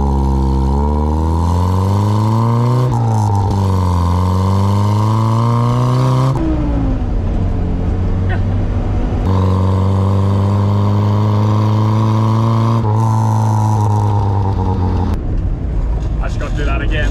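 An Austin Mini's small engine revs up and down repeatedly, its loud, close drone climbing and falling in pitch through several bursts of throttle.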